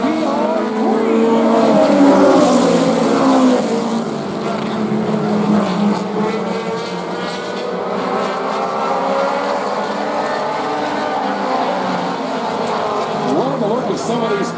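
Late model race cars roar together in a heat race on a dirt oval track, a loud sustained engine drone with shifting pitch as the pack passes, under an announcer's voice.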